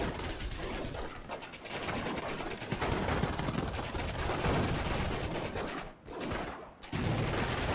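Grenade explosions and gunfire in a World War II video game match, dense overlapping blasts and shots at moderate loudness that drop out briefly before resuming.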